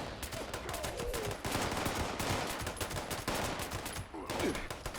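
Rapid gunfire from a weapon in Fallout 76, loud and close, with dense bursts of repeated shots running throughout.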